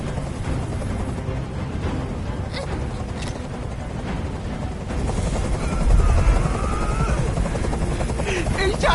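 A video game helicopter drones continuously with a low rotor rumble, swelling louder toward the end, while voices speak over it.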